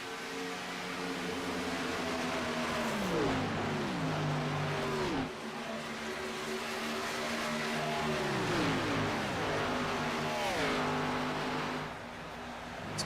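Race cars in a racing video game at Michigan roar around the track side by side in a pack, their engines droning loud and steady, pitch rising and dropping as they pass through the turns.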